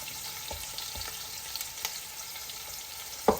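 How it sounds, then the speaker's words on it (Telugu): Onions fry in a pot for tomato rice, making a steady soft sizzle close by, dotted with a few light clicks and taps and ending in a sharper clink. "సో ఈ ఆనియన్స్ అన్నీ బాగా వేగాల బాగా వేగాలి"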